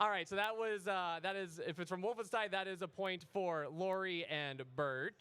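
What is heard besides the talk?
None of the usual background noises is heard.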